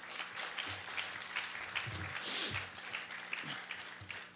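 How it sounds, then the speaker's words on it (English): Luncheon guests clap in a moderate round of applause, fairly distant and soft, with a voice speaking over part of it. "Get a round of applause for those people"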